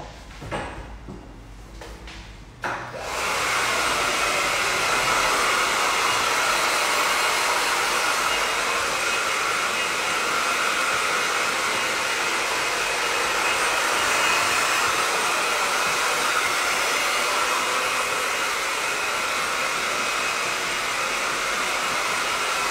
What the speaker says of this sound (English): So I'm just going to give everything a really good blast with the hairdryer.